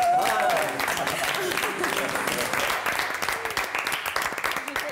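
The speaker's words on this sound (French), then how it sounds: "On applaudit!" Studio audience applause on a French-language reality dating show, dense clapping held at a steady level throughout with cheering voices and shouts mixed in.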